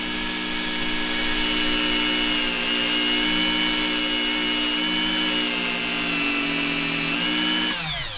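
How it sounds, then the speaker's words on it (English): Power tool grinding one side of a part for a 1000 hp K24 engine build in a Honda Civic, a loud, sustained high-pitched whine with steady tones that shifts slightly near the end, close and continuous. "So then I'm grinding one side of it"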